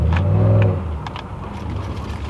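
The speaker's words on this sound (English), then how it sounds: "We make it go fast. We make it do the vroom vroom." A 2006 Chevrolet Monte Carlo SS engine revs hard for a moment during a cornering test, a loud close roar that drops away to a lower running hum.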